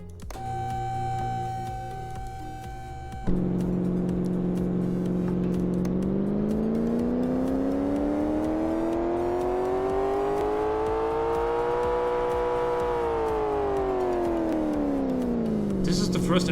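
Simulated car engine in Car Mechanic Simulator 2015 holds a steady idle, then revs smoothly up toward 7,000 rpm and back down, a loud continuous whine with rising and falling pitch.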